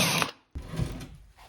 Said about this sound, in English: plan B, I got a 5/8 inch hole saw.